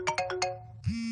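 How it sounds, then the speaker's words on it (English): A phone ringtone plays a quick run of four bright, rising electronic notes, followed by the start of a sustained tone, close and clear with no talk over it. "I'm sorry, I can't come to the phone right now."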